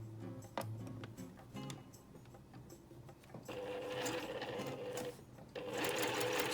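A sewing machine stitches patchwork flying geese blocks in short bursts of fast, even mechanical whirring and ticking, with pauses between runs and the final bursts louder and longer, all close by.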